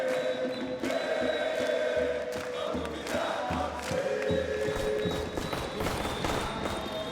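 At the IEM Rio Major 2022 Counter-Strike event in Brazil, a large esports arena crowd roars and cheers in a steady, dense wall of sound with rhythmic chanting pulses, loud and continuous throughout.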